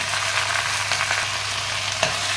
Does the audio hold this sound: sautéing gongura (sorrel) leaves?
yes